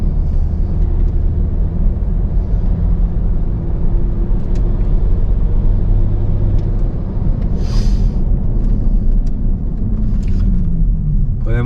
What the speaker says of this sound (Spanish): La rumorosidad que oímos son los neumáticos que están escalonados